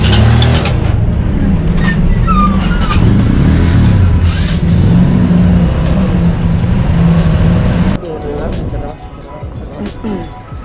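A car drives along a highway, its steady, loud road and engine roar dominating for about eight seconds before the noise drops and thins as it moves on; voices talk over it.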